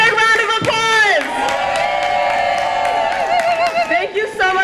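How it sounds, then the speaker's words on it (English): A rally crowd at a Hartford protest against polluters roars with sustained cheering, whoops and shouting voices, loud and close, with some scattered clapping mixed into the continuous noise of the crowd. "Big round of applause!"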